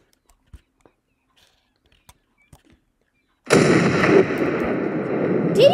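Gunfire in a ship crash physics game using ocean liners as battleships: a few faint, sharp pops in near silence, then a sudden loud burst of booming, rumbling fire that sustains as a dense roar to the end.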